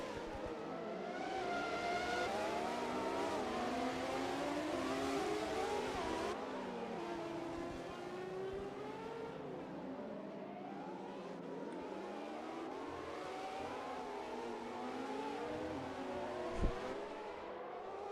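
Formula 1 race cars in a Historic Monaco esports race, running behind the safety car in a video game. A continuous engine drone rises and falls in pitch as the cars hold a steady pace, with no talk over it.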